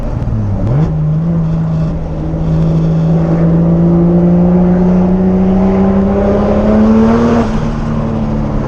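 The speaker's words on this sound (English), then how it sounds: "This thing's got some crazy turbo noises too." A single-turbo Toyota Supra making 550 hp pulls hard from inside the cabin, a loud engine note climbing steadily in pitch over several seconds with a brief gear-change dip near the start and turbo surge, no blow-off valve.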